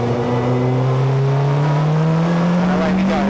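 A 1996 Honda Accord Super Touring race car accelerates hard on track, its engine note rising steadily and loudly from onboard with a strong, continuous drone, while a driver talks over it.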